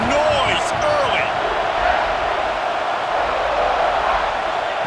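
A stadium crowd roars steadily through the early part of a college football game, loud and unbroken, with commentary voices heard over it.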